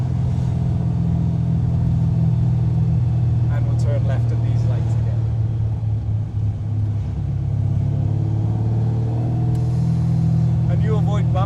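Rumbling V8 of a 1980 Chevy Camaro Z28 restomod with gear drive, cruising slowly with a deep, steady burble heard from inside the car, as people talk over it.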